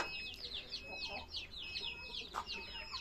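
Native country chickens on a village farm cluck in quick repeated bursts, with a few sharper calls standing out over a steady faint background.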